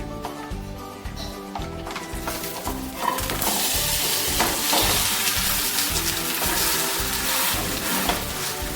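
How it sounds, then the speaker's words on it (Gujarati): Handvo batter of lentils and rice hits about two spoons of hot oil in a pan and sizzles loudly, a faint clatter first, then a steady hiss that swells and holds. "અહીં મેં 2 ચમચી જેટલું તેલ એડ કરી લીધેલું છે. આપણે હવે હાંડવો તેમાં એડ કરીશું."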